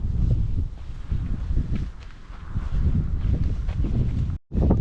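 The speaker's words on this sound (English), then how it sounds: "it's pretty windy today. This is actually probably the windiest day so far" Strong gusty wind blows outdoors on a mild spring day in Wisconsin, buffeting the microphone with a loud, low, fluctuating rumble that drops out briefly near the end.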